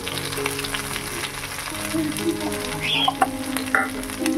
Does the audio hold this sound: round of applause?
no